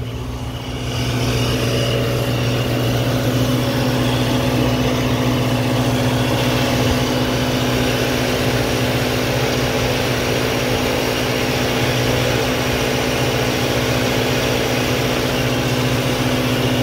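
A 2014 Mercedes C63 with 174k km and a supercharger that is not boosting idles steadily, a close, constant hum with a low drone and no change in revs.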